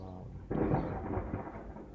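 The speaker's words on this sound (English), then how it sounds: "I'm sitting here and it's raining, so just got a confirmation with the thunder." Thunder during rain starts as a sudden deep rumble that swells, then slowly fades over a soft, steady hiss of rain.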